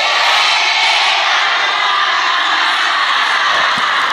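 A crowd of women at an Islamic study gathering in Makassar claps and cheers loudly and continuously, a dense wash of applause and shouts filling the hall.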